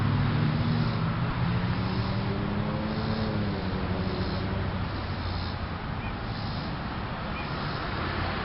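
A car rolls through a stop without stopping, its low engine hum and road noise sweeping past nearby and then fading into steady background traffic rumble.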